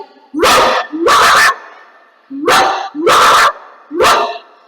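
A human voice imitates a dog barking in a mimicry performance at the Kozhikode district school arts festival: five loud, sharp barks in two quick groups, close to the listener.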